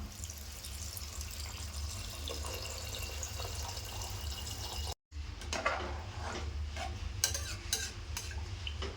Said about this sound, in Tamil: நான் 1 கப்பு அரிசி, கடலைக்கு 2 கப்பு இதில் தண்ணி எடுத்திருக்கேன்.